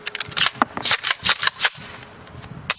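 Rifle fire with full-power .223 ammunition: a rapid string of sharp, loud cracks, several shots close together with a few further reports spaced out afterward, each a bright broadband burst with short decay.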